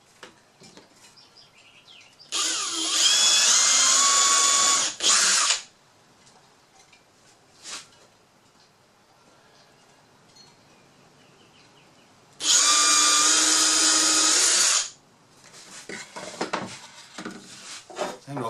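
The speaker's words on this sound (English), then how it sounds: "We will pre-drill." Power drill pre-drilling a warped wooden board for a clamp rack, two loud whining bursts of about three seconds each, separated by a quiet pause with light handling knocks.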